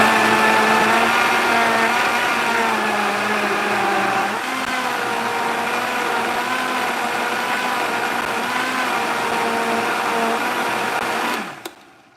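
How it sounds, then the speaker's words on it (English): A loaded kitchen blender runs loud and close for about eleven seconds as a steady motor roar, then quickly spins down and cuts off near the end. "Of course, the question is, will it blend?"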